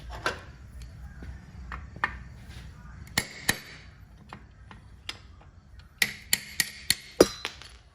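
Metal tapping on a BMW R 1200 GS final drive while its pivot is knocked out, a series of sharp irregular clinks and knocks, clustering quickly toward the end, close and fairly quiet.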